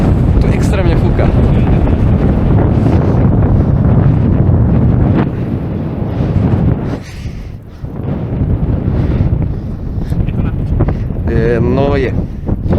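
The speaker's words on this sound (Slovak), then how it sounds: "Tu extrémne fúka." Heavy gusts blast across the top of a 212 m meteorological tower next to a nuclear power plant, loud steady wind buffeting the microphone with brief lulls, while people speak beneath the roar.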